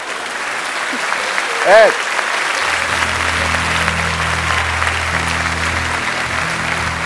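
Studio audience applause on a Turkish TV talk show, dense sustained clapping from a large crowd filling the room, with a brief spoken word heard over it.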